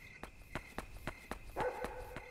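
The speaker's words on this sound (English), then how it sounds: "I know I hear the dog" Poro the dog barks in the video game Yomawari: Night Alone, a quiet, evenly spaced series of about eight short barks that sound distant against a faint background hum.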